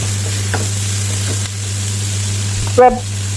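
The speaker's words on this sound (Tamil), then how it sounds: "ஆனபடியாக நாங்கள் கிளறி விட்டு அவிய விட்டு கொள்ளுவோம்" Vegetables for noodles stir-frying in a pan give a steady close sizzle with a few soft scraping stirs and a brief clatter near the end.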